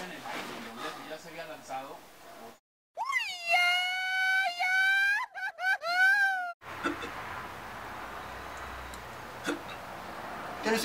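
A voice imitates hiccups with a series of strained, rising vocal yelps and whimpers, several short bursts close to the mic, framed by chatter before and after.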